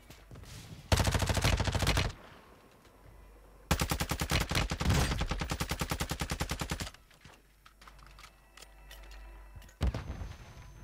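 Shotgun and other gunfire in the video game Warzone comes in loud, rapid bursts. Two long volleys are separated by quieter gaps, and a short final burst closes the sequence. No one speaks.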